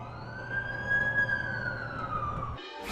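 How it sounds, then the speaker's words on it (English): An ambulance siren in The Amazing Spider-Man 2 video game, a steady wailing tone that swells slightly and then fades, over low traffic rumble, ending in an abrupt noise burst. "That's the ambulance I called."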